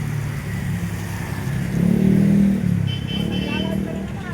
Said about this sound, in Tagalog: C5 Road. Grabe, traffic.